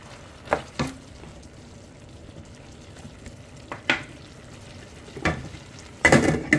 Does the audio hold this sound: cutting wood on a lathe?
no